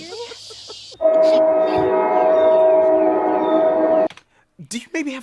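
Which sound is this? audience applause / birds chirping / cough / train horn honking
train horn honking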